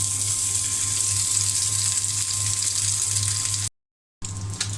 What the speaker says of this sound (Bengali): ডিম ভুনা করার জন্য এখানে তেল দিয়ে দিয়েছি, তেল গরম হয়ে গিয়েছে। এখানে আমি হলুদ মাখিয়ে নিয়েছি, এখন ডিম দিয়ে দিলাম।